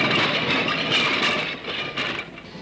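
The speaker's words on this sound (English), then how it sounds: "the corporation are going to run a series of last tram rides" A Glasgow tram running the number 9 route gives off a continuous rumble and hiss of wheels on rail, fairly loud and close, easing slightly toward the end.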